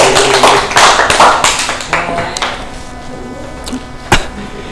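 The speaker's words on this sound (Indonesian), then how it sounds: "Bagus sekali Mas Khairuddin. Tepuk tangan." A classroom of students claps after a poem reading, a burst of loose, uneven hand claps close by that thins out into a few scattered taps and one last sharp clap.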